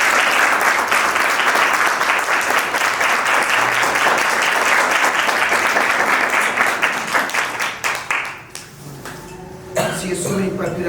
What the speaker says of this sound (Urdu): ابھی آپ سب کی بھرپور تالیوں میں بھائی عمران آپ کے ساتھ.